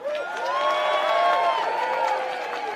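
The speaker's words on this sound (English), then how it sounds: "If you're with me, guys, let's cheer together" A crowd at an Extinction Rebellion protest rally raises a sustained cheer, many voices rising and falling together in one loud, swelling whoop lasting a few seconds.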